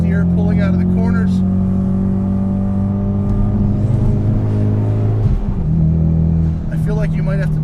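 A car engine drones loud and close from inside, holding a steady pitch, then dipping and rising again as the car accelerates out of corners. Someone talks over the engine noise.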